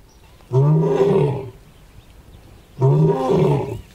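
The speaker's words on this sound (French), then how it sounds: "les lions rugissent, leurs cris résonnant dans l'air frais" Two deep, drawn-out lion roars at nightfall in the Maasai Mara, each lasting about a second, separated by a quiet pause with faint background noise.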